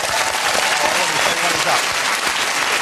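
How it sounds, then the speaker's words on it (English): A studio audience at a year-end comedy quiz show breaks into sustained, loud applause, a dense even roar of clapping from many people. "A round of applause for the tattoo, ladies and gentlemen."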